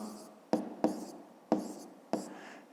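Pen scratching out math working on paper, several short strokes and taps separated by pauses, close and fairly quiet, with no talking.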